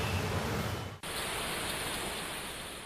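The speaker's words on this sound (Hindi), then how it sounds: "केरल में ये मॉनसून से पहले की बारिश है।" Steady, dense pre-monsoon rain falls in Kerala, a broad even hiss that cuts out for an instant near the start and then continues, with no voices.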